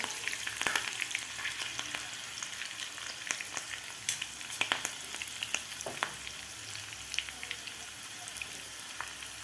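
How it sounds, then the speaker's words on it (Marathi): Slit green chillies frying in a hot tadka for whole masoor dal, a light, steady sizzle scattered with sharp little pops and spits, close and without talk. "मिरच्यासुद्धा थोड्याशा फ्राय करून घ्यायच्या आहेत आपल्याला"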